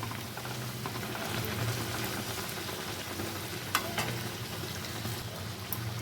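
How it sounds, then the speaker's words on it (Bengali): A puffed sattu-stuffed puri fries in hot oil with a steady, even bubbling sizzle throughout, broken by a few faint clinks; no voices are heard. "পুরিটা কি সুন্দর ফুলে উঠেছে এখন আমি এটাকে উল্টে দেবো"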